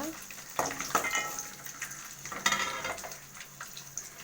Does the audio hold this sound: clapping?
no